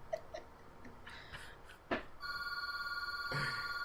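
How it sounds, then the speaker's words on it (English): A microwave oven in a house gives off a faint, steady electronic beeping tone in the background, following a few soft scattered noises. "Probably hear my microwave beeping in the background."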